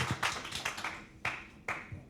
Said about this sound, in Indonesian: Tepuk tangan dong buat Melina.